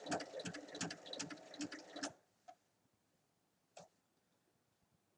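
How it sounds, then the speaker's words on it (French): A sewing machine stitches fabric up close to a buckle on a multi-pocket bag: about two seconds of fast, steady mechanical needle chatter, then near silence broken by a few small clicks. "On pique pour arriver au plus près de la boucle."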